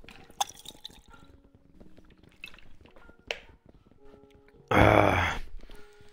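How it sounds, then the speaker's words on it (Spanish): Water is poured and then sipped during a Minecraft gaming session: a few faint drips early on, then a loud, splashy pour-and-gulp burst of about a second near the end, with no talking. "Vamos a tomar un poquito de agua."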